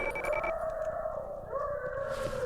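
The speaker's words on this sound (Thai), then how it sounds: "เสียงอะไร ใครเลี้ยงหมา เสียงหมือนหมาเลย" A long, wavering dog howl from the video game Cry of Fear rises and dips at moderate volume, with a second tone sliding in partway through over a quiet background.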